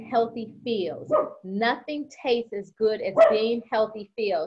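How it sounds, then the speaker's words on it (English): A dog barks repeatedly in the background of a home while someone talks steadily over it, the barks blending into her speech. "And I apologize for the dog in the background."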